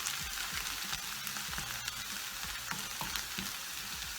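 Onions fry in a pan with a dense, continuous sizzle and crackle. Occasional stirring scrapes sound close to the listener, and nobody speaks over them.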